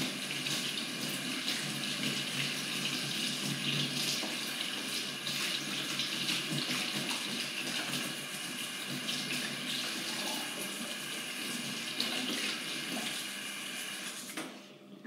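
Steady water running from a tap, a continuous hissing splash that holds level throughout and trails off slightly at the very end; no voices.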